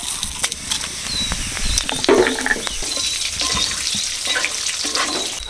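Dried red chillies, bay leaves and five-spice seeds sizzle and crackle in hot oil in a pan while prawn curry is being made, a steady close frying hiss with scattered pops and stirring scrapes.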